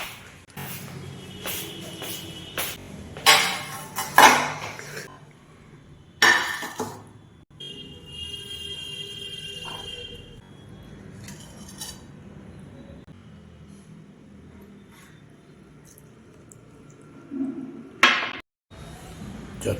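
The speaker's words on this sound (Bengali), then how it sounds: "থালা নিয়ে আসি" Steel plates are handled in a home kitchen, producing scattered clinks and clatters in short bursts near the start and again near the end, with quieter stretches of faint background noise in between.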